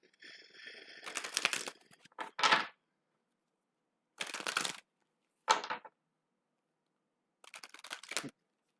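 A deck of cards being shuffled in several quick riffling bursts separated by silences, close and fairly quiet, no voices.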